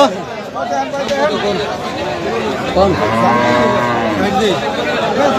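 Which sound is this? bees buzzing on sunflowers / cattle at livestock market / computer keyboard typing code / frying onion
cattle at livestock market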